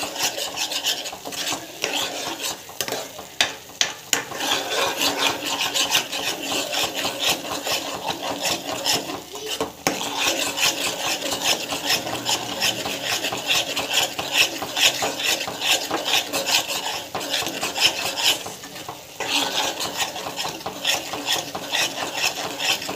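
Continuous scraping and stirring in a pan with a soft sizzle underneath, the utensil rasping steadily against the metal.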